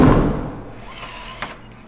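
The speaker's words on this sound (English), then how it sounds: "I'll pull the door in," A front door fitted with a Wyze smart lock is pulled shut with a dull thud at the start, then quiet room tone and a small click a moment later.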